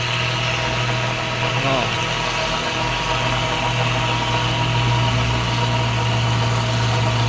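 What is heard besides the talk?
Hino Ranger coal truck engine idling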